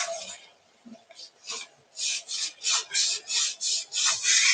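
Rhythmic rasping strokes of a baby wipe rubbed back and forth over wood to distress it, steady and close, with a few lighter scrubs before settling into an even pace.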